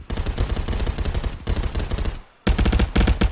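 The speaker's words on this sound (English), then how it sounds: "All you hear is gunfire." Rapid machine-gun bursts in a competitive multiplayer shooter, loud and close, with dense rattling volleys broken by a short pause before firing resumes.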